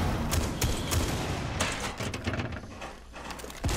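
Grenade blasts and gunfire in the tactical shooter Rainbow Six Siege, a dense, loud burst of sharp explosive cracks and reports running throughout.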